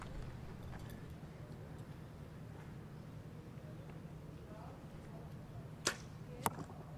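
Compound archery arrows strike the target at a World Cup final in Paris, two sharp thuds late in the clip, fairly distinct over a quiet, steady crowd-and-room background.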